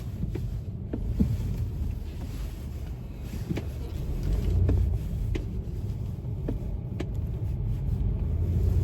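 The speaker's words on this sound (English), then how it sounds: "the traffic is a mess up here" Busy road traffic, a continuous rumble of cars passing close by with a few sharp knocks and some wind noise on the microphone.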